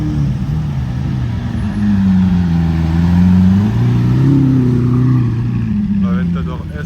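A Lamborghini Aventador S Roadster's engine rises and falls through a loud, sustained rev as the car passes by on a street in Cannes.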